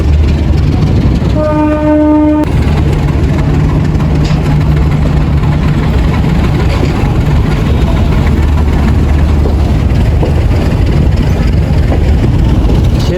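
A short train horn blast, then the loud, steady rumble and clatter of a commuter train departing Parbatipur Junction station, Bangladesh, rolling along close by.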